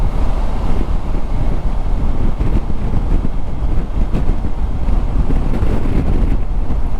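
Wind roars past a motorcycle rider on the Atlantic Ocean Road in Norway, a loud, continuous buffeting rumble with steady low turbulence and no break.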